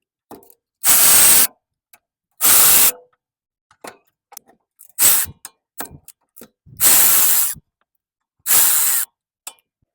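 Hand tools remove the 12 mm bolts holding the brake hose to the strut on an Acura Integra, with five loud bursts of rapid ratchet clicking separated by short pauses and scattered small metallic taps and knocks in between.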